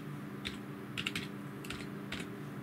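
Computer keyboard typing, entering a command into the Windows 10 Run box: several short bursts of clicky keystrokes, close and clear, over a low steady hum.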